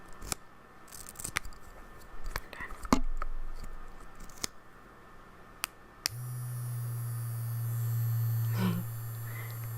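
A vibrating mascara wand buzzes in a low continuous drone near the microphone during an ASMR makeup session, following a few seconds of soft taps and clicks.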